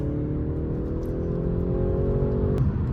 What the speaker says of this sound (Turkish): Bu vites düşüşlerinde falan güzel, çok ince egzoz patlamaları da bulunuyor araçta bu arada.